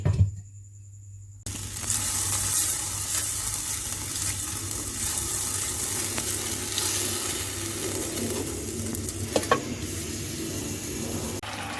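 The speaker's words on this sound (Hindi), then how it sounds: "2 मिनट तेज़ आंच पर चिकन को पकाएंगे और चमचा मसलसल हिलाएंगे" Marinated chicken cooks in a pan on a high flame with a steady sizzle while a spoon stirs it, giving occasional metallic scrapes and clinks close by, with no talking, after a quieter opening second.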